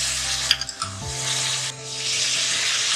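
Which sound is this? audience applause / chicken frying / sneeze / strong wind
chicken frying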